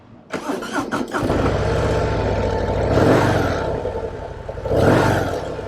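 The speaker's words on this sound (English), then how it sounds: "Harley Davidson Breakout 117. Let's go for a ride." A Harley-Davidson Breakout 117 cruiser motorcycle fires up with a sharp start, then rumbles steadily with a deep loud engine roar, swelling twice as the throttle opens.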